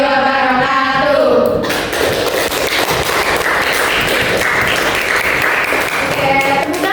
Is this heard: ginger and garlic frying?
no